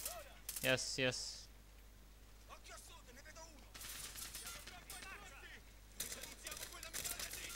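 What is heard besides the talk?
machine gun fire in the video game Call of Duty Modern Warfare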